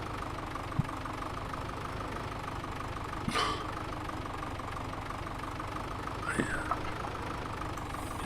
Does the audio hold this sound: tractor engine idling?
yes